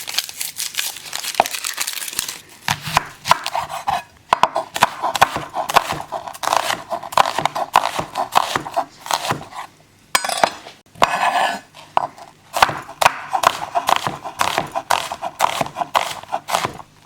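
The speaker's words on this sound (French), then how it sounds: "on va commencer par éplucher les oignons" Onions being peeled by hand, a long run of close, dry crinkling and tearing of papery skins with frequent small clicks, pausing briefly now and then.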